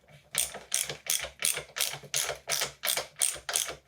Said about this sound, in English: Now we're going to take our cassette tool and we are going to unscrew the damper until it comes out.